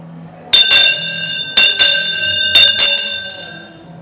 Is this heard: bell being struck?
yes